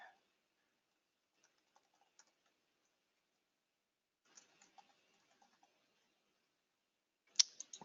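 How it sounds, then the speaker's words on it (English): Typing an app name on a computer keyboard, faint scattered key clicks in short bursts separated by near silence, with a louder cluster of taps at the end. "So we're going to give our app a name."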